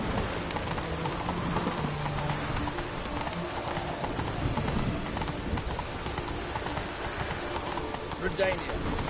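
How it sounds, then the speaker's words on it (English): Galloping clip-clop of the horse Roach in The Witcher 3 video game, a steady hoof rhythm under rain-like noise and game music, with a person talking over it. "Giddy up. That's it, Roach."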